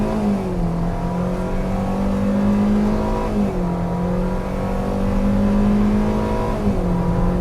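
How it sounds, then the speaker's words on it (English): A 2021 Hyundai Venue's engine revs hard under acceleration from 0 to 60, its pitch climbing smoothly then dropping in three stepped CVT simulated gear shifts, loud and close. "And you hear those simulated gear shifts from a CVT"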